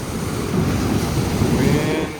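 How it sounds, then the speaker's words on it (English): Gusty coastal wind buffets the microphone over a steady wash of ocean surf, loud and continuous with no voices. "Windy."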